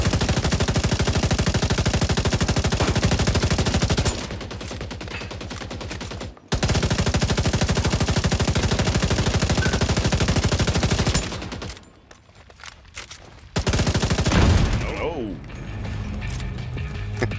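Sustained rapid gunfire in The Division 2 co-op mission on Roosevelt Island, loud continuous bursts with mechanical clatter, broken by brief pauses and ending with a burst and quieter rattling.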